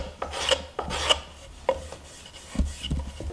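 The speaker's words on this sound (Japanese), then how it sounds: "段差が多少できたようなところも同じようにこういう形で削って落としてください。" Sandpaper is worked along the grain over the wooden edges of a small screw-assembled DIY stool kit, a series of close, uneven rasping strokes of about half a second each, alone with no talk.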